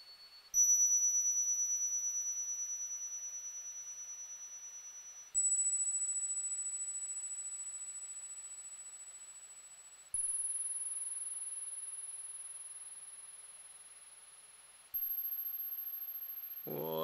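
Synthesized pure sine tones, loud and high-pitched, stepping upward in four sustained segments, each starting with a sharp onset and slowly fading, with a faint pulsing quality and a brief noisy burst at the end.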